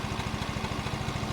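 A small motorcycle or moped engine runs at slightly raised revs, a quick even putter of firing pulses held steady and close throughout the short stretch.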